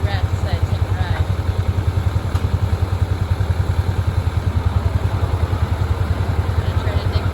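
A backhoe engine runs close by with a steady, rapid clattering throb at idle, loud and continuous throughout.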